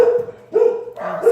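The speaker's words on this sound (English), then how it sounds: "those are my dogs" Dogs in a home bark in short loud bursts, three sharp barks close by with brief pauses between them and no other sound competing.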